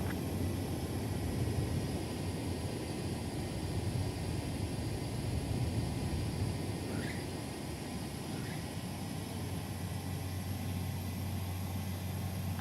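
A propeller airplane engine drones steadily in flight in a flight game, a constant broadband roar with a low hum that stays at even loudness throughout, with no voices.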